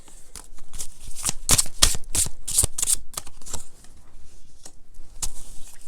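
A deck of Soul Tree Oracle cards is shuffled by hand, quick crisp riffles and snaps coming in bursts close up, with a short pause near the end before a few more flicks.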